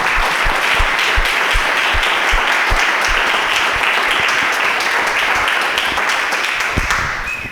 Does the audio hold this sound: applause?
yes